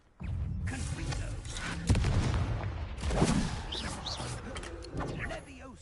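A fiery Confringo blasting spell is cast in Hogwarts Legacy, producing booming, crackling blasts with two sharper bursts amid dense magical effects, all fairly loud and close.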